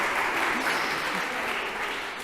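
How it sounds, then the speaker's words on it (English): An audience at a creative health strategy launch event breaks into sustained applause, a full, even patter of many hands that tapers slightly toward the end. "So give her a round of applause."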